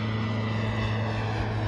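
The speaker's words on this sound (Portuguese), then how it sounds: "O avião acabou indo embora sem poder aterrissar." Propeller airplane engine near a small regional airfield, failing to land: a steady, loud low drone with a constant hum and no pauses or talking.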